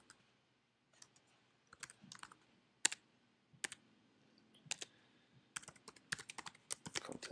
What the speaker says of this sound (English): I have to type with my laptop keyboard today